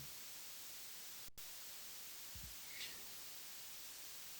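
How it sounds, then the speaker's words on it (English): Steady, faint hiss of simulated tape noise from a dither plugin, a soft even static with a brief click and a couple of tiny low thumps, no voices. "I was experimenting around and trying to find what just tended to resemble tape noise better."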